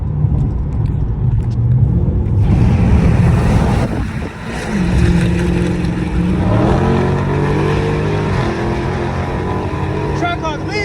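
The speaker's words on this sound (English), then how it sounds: "Trackhawk leaving me." A Dodge Challenger Hellcat and a Jeep Trackhawk accelerate hard, a loud continuous engine roar climbing through gears with shifting pitch sweeps, with speech over the engine noise.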